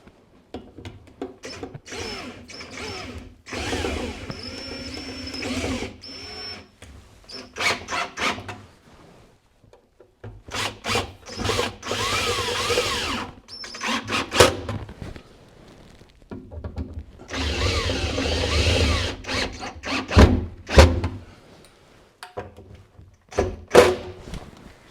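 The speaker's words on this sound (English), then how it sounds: "Now I can tighten down the sink again." Hand and power tools tighten down a sink fitting in an overland 4x4 camper kitchen, with bursts of drilling-like whir and knocking thunks that stop and start in several close, loud spells, without talk.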